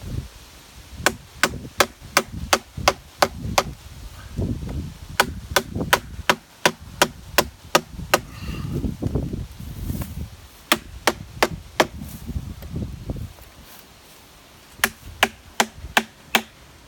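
A Buck hatchet repeatedly chops into a tough wooden stick, sharp close thwacks landing in quick runs of several strikes with short pauses, over a low rumbling background.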